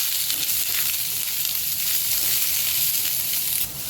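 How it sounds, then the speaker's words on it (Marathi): Chopped onion fries in a little oil over high flame, in the same pot used to roast coconut. It gives a loud, continuous sizzle that stays even from start to finish. "थोडंसं तेल आणि कांदा आपल्याला फास्ट गॅसवर भाजायचा आहे"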